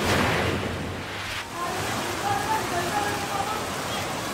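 Heavy monsoon rain pours while floodwater rushes across a road crossing in Cagayan de Oro, a dense continuous roaring wash of water, loud and close throughout.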